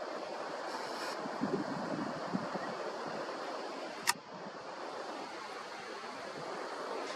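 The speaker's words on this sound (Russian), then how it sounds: "Так, это уже ветер, это уже не я." Steady wind buffets a handheld camera outdoors during night stargazing, a loud continuous rushing roar of microphone wind noise with a couple of brief knocks and one sharp click partway through, no talking.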